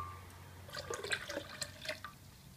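Organic water poured from a jar into a container, heard as quiet splashing and trickling with scattered droplet sounds and short gurgles, faint and close, with no voices.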